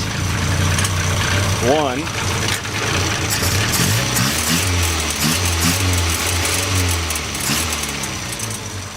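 A Crosley car engine running nearby with a steady, loud mid-pitched drone and a slightly uneven putter, continuous throughout.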